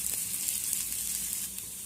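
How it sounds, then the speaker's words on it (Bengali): Chopped onion stir-fries in a pan after chilli and garlic, giving a brief, steady, moderately loud sizzle with no talking. "পেঁয়াজটাকেও আমি নেড়ে চেড়ে ভেজে নেব।"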